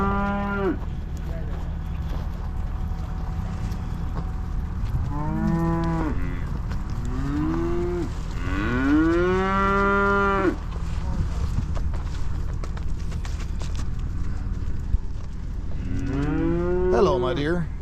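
Heifers and commercial cows moo repeatedly at a farm feeding, several drawn-out calls spread through the stretch from near and mid distance over a steady low hum, with a person talking at times.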